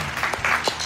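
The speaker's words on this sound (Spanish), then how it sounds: "Pueden aplaudir si quieren" A short burst of studio-audience applause opens the Jam Session variety program hosted by Diego Mizrahi. The clapping is loud, dense and close, and it lasts under a second.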